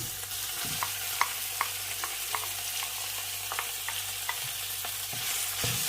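Pork frying in a pan for a spicy stir-fry with eggplant, a steady close sizzle punctuated by a regular run of light spatula taps and scrapes, with no voices.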